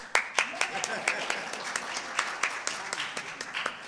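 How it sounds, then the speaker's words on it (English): A small audience claps in a room, a scattered run of sharp individual hand claps at an uneven rhythm, close and moderately loud. "A nice round of applause for the projector"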